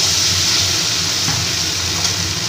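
A little water hits bottle gourd frying in hot oil, raising a loud, steady, close sizzle and hiss that holds unbroken throughout.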